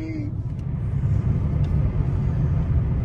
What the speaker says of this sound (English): Okay, traffic has begun a little bit.